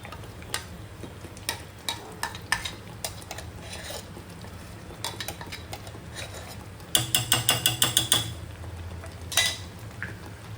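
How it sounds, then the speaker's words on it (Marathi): Chicken kharda being mixed in a pan over a medium flame, heard as repeated scraping and clicking of a utensil against the pan with a quick clattering burst near the end, alone and moderately close. "तर मीडियम फ्लेमवरतीच तुम्ही हे मिक्स करून घ्या."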